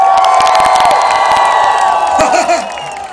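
A dense crowd at a show in Ostia cheers, whoops and shouts continuously, loud and close, with children's high voices rising through the din and a few claps underneath.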